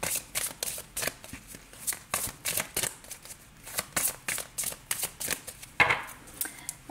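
Tarot cards are shuffled for a reading, giving a rapid, regular run of crisp riffling snaps close by that continues steadily throughout, with no talking.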